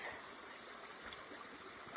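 A creek flowing at a gold-prospecting dig in New Zealand, a steady faint hiss and trickle of running water with no talk over it.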